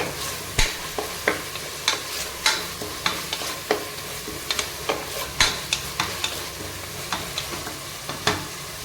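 Whole mint leaves sautéing in oil in a pot for tomato biryani, a continuous close sizzle broken by regular sharp scrapes and knocks of a ladle stirring.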